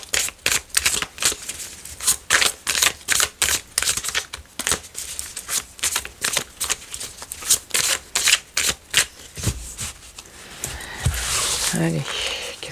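A deck of oracle cards is shuffled by hand in rapid repeated riffling bursts, crisp and close, in an even rhythm lasting about ten seconds, followed by softer handling and rustling at the end.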